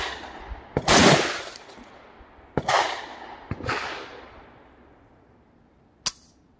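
Gunfire from an AR-15 rifle outdoors: a few sharp, loud cracks spaced irregularly, each trailing into a long fading echo, with one last distant-sounding shot after a pause.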